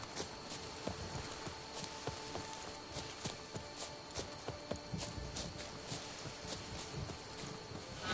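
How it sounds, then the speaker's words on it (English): Steady rhythmic hoofbeats of a galloping horse in Witcher 3: Blood and Wine, close and continuous, with the game's ambient background underneath. "Even a horse drops if you ride it at a constant gallop."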